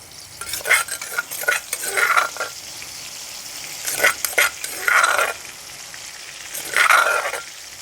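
Chili and garlic hit hot oil in a pan while chicken is being stir-fried, loud bursts of sizzle and spatter that come in waves, with scraping stirs in between, up close and with no voices.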